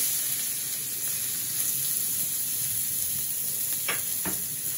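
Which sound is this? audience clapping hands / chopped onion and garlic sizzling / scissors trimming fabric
chopped onion and garlic sizzling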